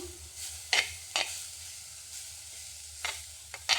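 Taro leaf thoran being stirred in a pan with salt, a low steady sizzle broken by a few sharp scraping stirs, close and alone.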